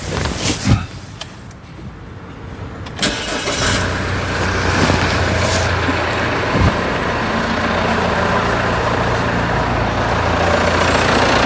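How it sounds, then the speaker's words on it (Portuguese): A car engine starts after a few clicks and then runs steadily at a moderate level, with a faint hum throughout, connected to an engine analyzer. "Motor em funcionamento."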